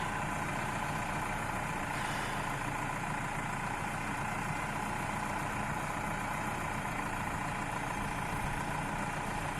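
A new 2017 model tractor engine idles on a farm beside livestock paddocks, a steady low rumbling drone with constant level and no talk over it.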